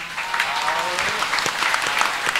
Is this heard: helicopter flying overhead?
no